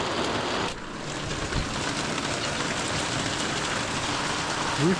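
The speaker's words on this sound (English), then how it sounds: "it finally stopped raining" Rain falls steadily on an outdoor aviary area in a dense, constant hiss of drops that continues without pause. A brief dip sounds early on.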